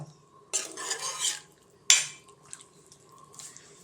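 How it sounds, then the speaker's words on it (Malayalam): A spoon scrapes and stirs beef curry in a pot, two distinct bursts of metallic scraping with soft clinks between, close and fairly quiet. "ഇതെല്ലാം കൂടെ പോലെ ഇളക്കി കൊടുത്തിട്ടേ ഒന്നുകൂടിയിട്ട് വേവിക്കാം"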